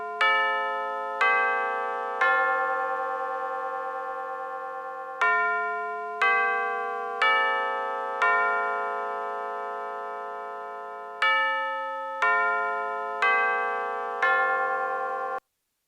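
A Westminster chime plays from a clock app: clear, bright bell tones strike one after another in a steady melodic sequence. Each note rings and decays before the next, and no one talks over it.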